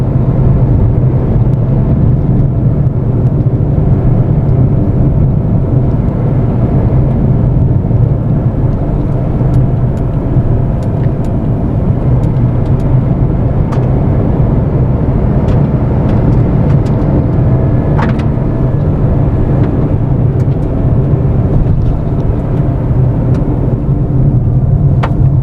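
Renault Kiger interior driving sound, a steady loud low engine and road drone throughout with constant cabin rumble and no talking.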